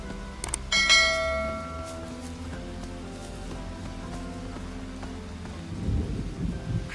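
Rain patters steadily in the video game Bugsnax, with a rumble of thunder swelling near the start and another low roll building toward the end, mixed with faint bell-like tones.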